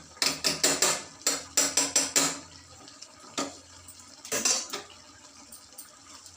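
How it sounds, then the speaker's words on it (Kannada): Cooked dal and spinach are mashed in a pot, making rhythmic bursts of sharp thumps and metallic clinks in quick groups separated by short pauses. "ಬೇಳೆ ಚೆನ್ನಾಗಿ ಬೆಂದಿದೆ, ಆದರೂ ಒಂದ್ಸಲಿ ಮ್ಯಾಶ್ ಮಾಡಿಬಿಡ್ತೀನಿ."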